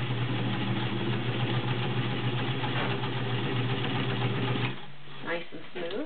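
A vintage White Model 1665 heavy duty sewing machine runs a steady fast motor hum while stitching through a couple of layers of leather, then stops abruptly, followed by a few faint clicks and handling sounds.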